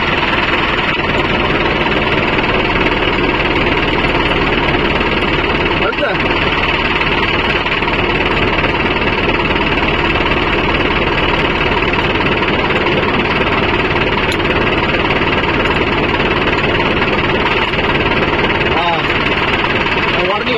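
A Mahindra 605 Novo tractor runs a rotavator through dry soil, its engine roaring loud, close and unbroken throughout, with a rough, vibrating churn.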